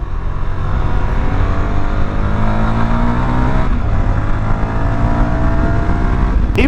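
A CFMOTO 300SS sport motorcycle engine held near wide open throttle, a loud, steady, continuous drone with a slowly climbing pitch, close to the rider and alone without talk.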